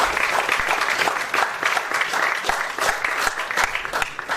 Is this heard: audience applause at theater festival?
yes